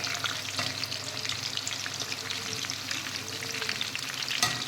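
Spicy chicken 65 fries in a pan with a steady, close sizzle and crackle of hot oil, broken by occasional stirring clatter and no talk.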